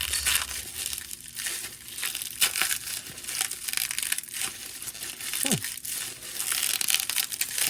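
Continuous crinkling and rustling of packing material being pulled and crushed up close, with irregular crackles throughout.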